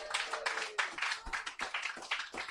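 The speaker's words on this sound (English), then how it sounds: "Round of applause." A crowd claps in a steady, dense patter of applause for a couple of seconds, moderately loud throughout.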